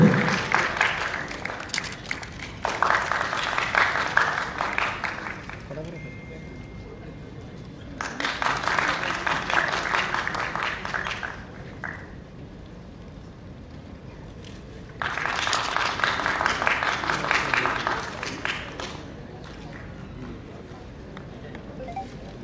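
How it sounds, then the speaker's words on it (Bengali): Audience applause in a hall at a National Press Day programme in Agartala, coming in three separate bursts of clapping, each several seconds long, with quieter murmuring and room noise between them. "ওনার জন্য জোরে করতালি আশা করব"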